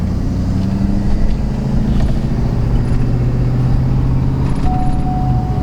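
A Ford Powerstroke diesel truck with a tuned transmission drones steadily from inside the cab, its low engine tone holding then shifting pitch as the gearbox upshifts, with faint rattles over the continuous hum.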